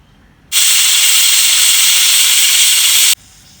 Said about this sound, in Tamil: ப்ரெஷர் குக்கரை மூடி போட்டு மூணு விசில் விட்டு வேக வச்சு எடுத்துக்கலாம்